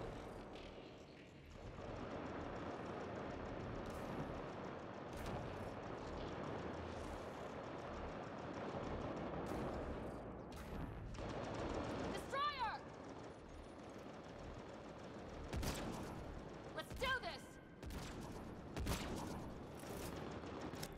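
Distant gunfire from a fight in Mass Effect: Andromeda pops in scattered bursts over a rumbling, mechanical background, with a few sharp nearer shots and faint electronic whines toward the end.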